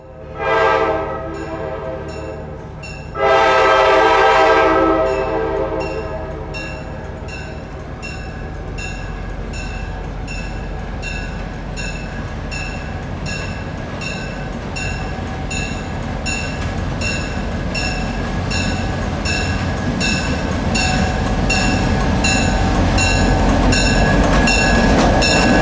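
GSMR steam excursion train No. 1702, Queen of the Smokies, sounds a loud horn blast early, then rumbles past with steady rolling noise and rhythmic wheel clatter, staying close and loud throughout.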